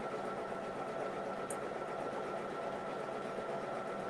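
An embroidery machine stitches out a mug rug, giving a steady, continuous mechanical whir and hum that stays even throughout, close and fairly quiet.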